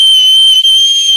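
A shrill whistle sounds at a comedy stage show as one loud, sustained, steady blast with a brief dip near the middle.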